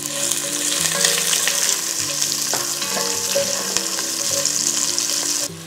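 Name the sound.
sliced onions frying in oil with garam masala and dried chilies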